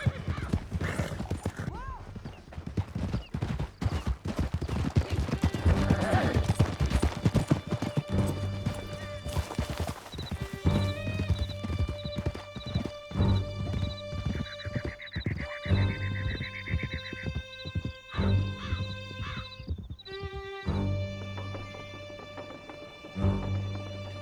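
Horses galloping in the video game Red Dead Redemption 2, rapid close clip-clop hoofbeats with occasional whinnies during a chase out of a canyon, under speech and game music.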